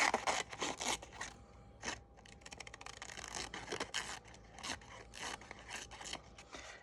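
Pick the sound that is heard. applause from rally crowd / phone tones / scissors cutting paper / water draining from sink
scissors cutting paper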